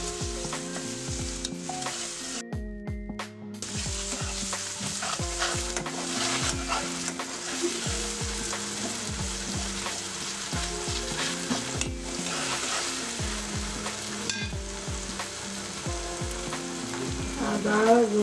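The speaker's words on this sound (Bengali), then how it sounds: "আগে কিমাটা রান্না করব" Minced meat fries in a pan for a stuffed pointed gourd dish, with a constant sizzle broken by repeated rhythmic scraping strokes of a spatula stirring the mince, close and continuous.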